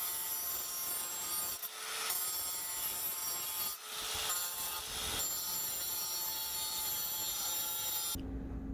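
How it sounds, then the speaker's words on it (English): A brush cutter blade adapter is ground down, producing a continuous harsh rasping grind with a few brief surges in intensity before it cuts off abruptly near the end. "grind that down just a little bit."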